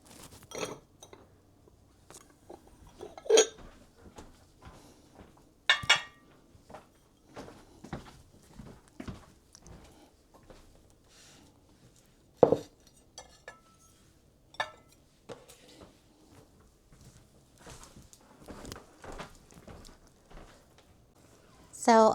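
Dishes being handled while setting a dinner table: scattered ceramic clinks, knocks and glassy taps spaced out over some twenty seconds, with quiet gaps between them.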